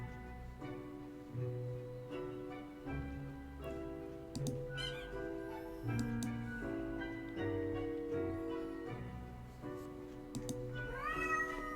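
A cat meowing repeatedly in short, tonal calls, some rising in pitch, fairly close over faint computer keyboard typing and background game sounds.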